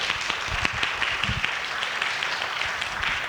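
An audience at a church letter-reading lecture event applauds to welcome a singer, a dense, continuous patter of many hands clapping.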